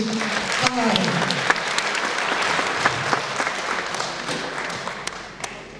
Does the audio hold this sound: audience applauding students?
yes